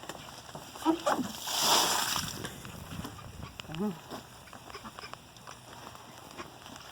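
On a winter night in a duck yard, a bucket of water is thrown out in one brief, loud splash, then trickling and faint scattered noises follow, with quiet voices nearby.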